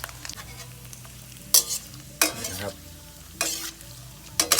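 Thin dried pork fries in a pan over low heat with a soft, continuous sizzle, broken by several sharp bursts of stirring and scraping.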